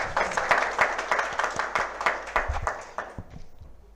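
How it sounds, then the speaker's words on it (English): A seated audience at a GST summit applauds a welcomed guest, with moderately loud, crisp clapping that trails off into a few scattered final claps. "I request everyone to kindly give a round of applause and welcome."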